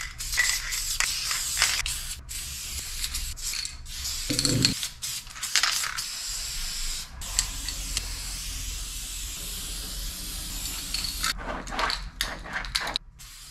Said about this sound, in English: Now onto the spray paint.